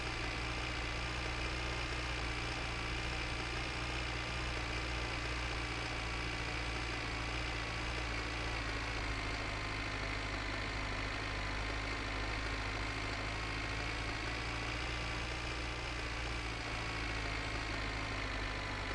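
A tractor engine idles in My Summer Car with a steady, unbroken low drone and hum, constant in level for the whole stretch, with no talk.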